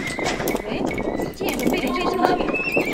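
Horse neighing with clip-clop hooves in a multiplayer video game match, heard under steady excited voices talking over dense game noise.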